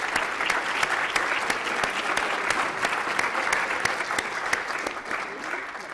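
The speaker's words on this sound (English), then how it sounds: "So please join me in a round of applause for everyone." An audience at the close of a workshop gives a round of applause, dense sustained clapping at an even level for several seconds, fading slightly at the end.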